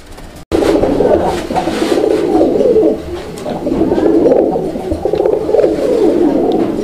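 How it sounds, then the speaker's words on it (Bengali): A single male pigeon coos close by and loudly, in long rolling phrases repeated with short pauses. "নটটার ডাকটা আমি আপনাদেরকে দেখানোর চেষ্টা করতেছি"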